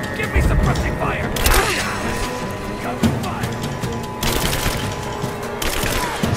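Rapid gunfire bursts and cracks from a firefight in the Rise of the Tomb Raider video game, dense and loud throughout with several sharper volleys over game noise.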